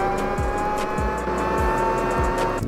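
A Dodge Dart GT in the Roblox driving game drones along with a steady engine note, broken by four evenly spaced gear-shift drops and tire squeals, loud and close with no talk.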